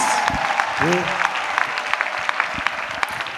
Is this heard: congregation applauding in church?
yes